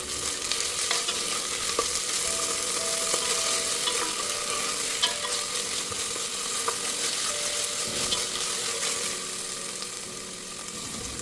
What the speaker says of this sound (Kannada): ಇವಾಗ ಆನಿಯನ್ ಫ್ರೈ ಆಗಿದೆ. ಇದಕ್ಕೆ ಶುಂಠಿ ಬೆಳ್ಳುಳ್ಳಿ ಪೇಸ್ಟ್ನ ಆ್ಯಡ್ ಮಾಡ್ತಾ ಇದ್ದೀನಿ.